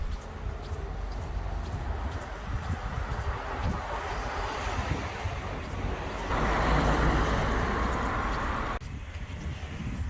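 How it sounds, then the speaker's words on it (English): Steady wind buffeting the microphone outdoors on a grey coastal day in Sweden, a constant rushing roar that swells louder for a few seconds before easing back. "It's a super windy day"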